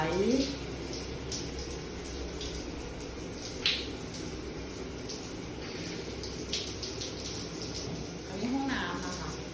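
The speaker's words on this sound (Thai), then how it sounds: "อ้าวน้ำไหล" A tap runs in a hotel bathroom at a mountain resort, a steady faint rush of water with a few brief squeaks and clinks, continuous in the background of a quiet room.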